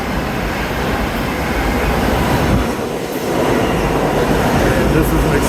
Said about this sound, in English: we have an express train coming through